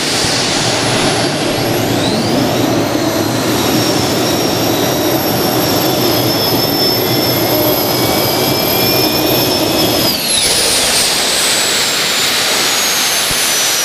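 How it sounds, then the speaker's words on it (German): A turbine-powered modified tractor roars down the track at a tractor pulling event in Krumbach, with a loud, continuous jet whine and a rising high tone. Around ten seconds in the turbine pitch drops sharply as the engine appears to fail, and the roar continues. "das klang, als wenn eine Turbine defekt gegangen ist"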